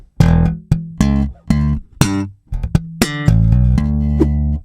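An electric bass plays a short slap lick of plucked, percussive notes, some snapping out sharply, others sustained, with no voices.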